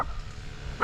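A small dog gives a short, sharp bark at close range near the end of a brief, otherwise quiet moment outdoors by a fishing spot.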